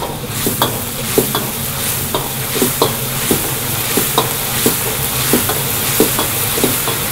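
Seafood mapo tofu with cod milt cooking in a wok over high heat, a steady loud sizzle broken by regular stirring scrapes about every half second, with no voices.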